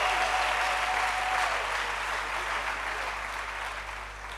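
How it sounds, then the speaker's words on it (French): Applause and acclamation fill a church, a thick wash of clapping at steady level over a constant low electrical hum, gradually easing off over a few seconds. "Acclamation à Jésus-Christ."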